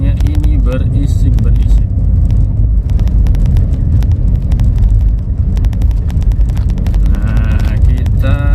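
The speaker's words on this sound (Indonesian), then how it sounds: "Kolongnya ini berisik." A Datsun Go Plus driving on the road fills the cabin with loud, constant rumbling underbody road noise and low-frequency roar, with ticks and clatter over it and someone talking throughout.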